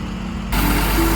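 MAN TGM 18.250 truck engine running, close and loud, a steady low diesel rumble that cuts in abruptly after a quieter moment and holds alone.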